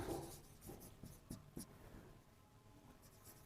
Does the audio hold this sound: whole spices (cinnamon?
no